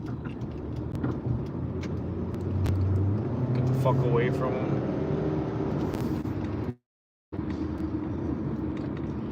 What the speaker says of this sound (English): I'm just sitting in traffic.